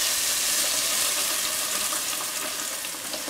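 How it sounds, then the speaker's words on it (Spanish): Blended chipotle adobo sauce, unstrained, poured into hot oil and frying: a loud, steady, hissing sizzle that fades slightly toward the end, heard alone without talk. "Vamos a esperar a que este adobo se sofría."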